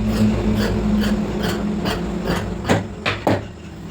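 Scissors snip through blouse fabric on a tailoring table in a few close, sharp cuts, the last ones louder and more distinct, with a low steady hum in the background.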